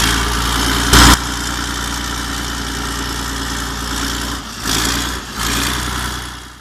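Vintage big-bore straight-six diesel of the kind fitted to White and Oliver tractors and heavy trucks, the DT817, running with a steady low rumble, loud and close, with a brief knock and a couple of dips and surges near the end.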